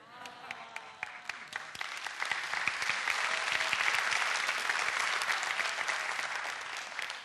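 Live audience at a Korean talk-show lecture stage giving sustained applause, scattered claps at first building into a loud, dense ovation that holds steady to the end.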